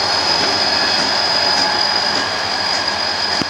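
A pair of BNSF SD40-2 diesel locomotives hauling the Sidney local freight north from Glendive, a loud, steady, close roar with a sustained high metallic whine over rumbling engine noise.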